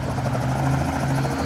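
Helicopter in the Roblox-style game Mad City: a continuous close rotor and engine hum, steady and loud for the whole short stretch, with no voices.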